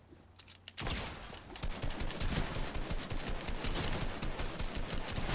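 A gun in Fortnite firing rapid continuous bursts after a brief quiet moment, loud and sustained until the end.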